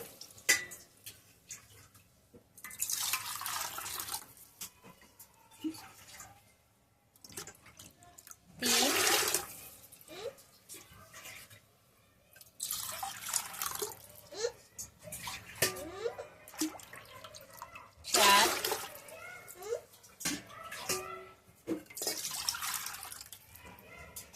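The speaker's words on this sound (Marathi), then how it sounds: "मी या बाउलने पाणी घेते" Bursts of water poured from a bowl into a pot, five measured bowlfuls for rice papad, several separate splashing pours with quiet gaps and faint drips between them, close by.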